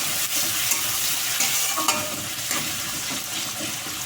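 Tomato frying with onion in a pan for rohu mustard curry, a continuous close sizzle with occasional stirring clinks and scrapes.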